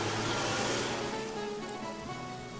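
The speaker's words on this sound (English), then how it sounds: "I'm actually going to use rain real quick to put this out." Rain spell cast in the video game Divinity: Original Sin, a hissing wash of falling water that starts strong and slowly thins out over a few seconds, with faint game tones underneath.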